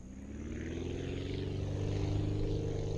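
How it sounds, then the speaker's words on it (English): A propeller engine on a custom-built plane in Aviassembly roars at full throttle for takeoff, a steady, loud drone with a constant buzzing pitch that swells slightly over a few seconds, heard alone. "So I'm going to go full throttle"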